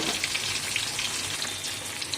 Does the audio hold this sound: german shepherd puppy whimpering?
no